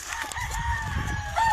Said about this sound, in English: What a rooster, this chicken.